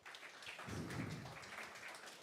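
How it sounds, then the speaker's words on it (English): Audience applause for a speaker at a financial services data analytics and AI event. Soft clapping swells after a quiet start, holds for about two seconds and sounds distant and faint. "Big round of applause for Falk."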